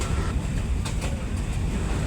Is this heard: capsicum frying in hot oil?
no